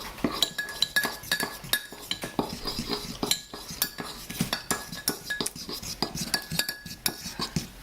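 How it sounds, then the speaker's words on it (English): A metal spoon stirring a splash of vanilla into a homemade mocha, quick repeated clinks and scrapes against the mug, steady and close with no talking. "then stir that in"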